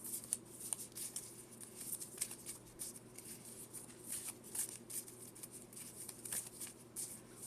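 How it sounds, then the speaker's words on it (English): A Pokemon TCG deck of playing cards is shuffled close by, giving quiet rapid riffling and flicking bursts in an irregular rhythm over a faint low hum. "This side too, we have to shuffle and then draw 4."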